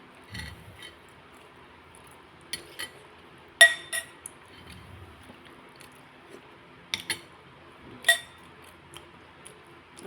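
A spoon scoops liquid into a bowl, making sparse, quiet clinks of metal on glass or ceramic with soft pouring sounds between them, near and without speech.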